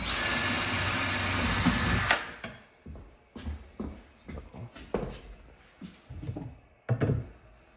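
Cordless power drill driven through a kitchen cabinet using a cabinet hardware jig: a loud continuous whine for about two seconds that cuts off abruptly, followed by scattered knocks and handling clunks as the tool is withdrawn.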